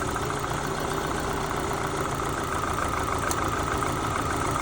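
Opel Zafira A engine idling rough and misfiring, a continuous uneven running drone with a faint irregular stumble, close and steady throughout, no talking.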